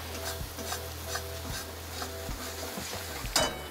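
Ground masala roasting in oil in a pan for a coriander vadi gravy, with a low steady sizzle and rhythmic scraping strokes of a spatula against the pan, ending in a sharper clink.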